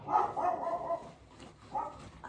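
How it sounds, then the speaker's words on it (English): A dog barks a few times in the distance, muffled and fairly faint, with short pauses between the barks. "know why the dog is barking"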